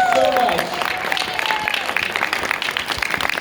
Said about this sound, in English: Can you guys give a huge round of applause?